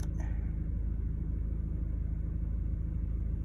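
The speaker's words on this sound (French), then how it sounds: "le moteur est démarré" A 1.6 HDi diesel car engine idles just after starting, a steady, low, even rumble heard up close with no revving.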